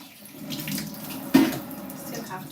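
Tap water runs into a kitchen sink while a water bottle is washed, a steady close splashing wash with a brief louder gush partway through.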